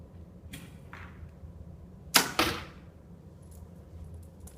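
A Synergy compound bow fires a 402 grain arrow indoors at 308 feet per second: a couple of soft handling clicks, then a sharp loud release crack and a quick second smack as the arrow strikes, in a quiet room.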